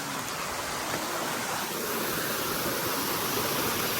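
Village river water rushes in a continuous, dense roar, steady and close throughout with no voices over it.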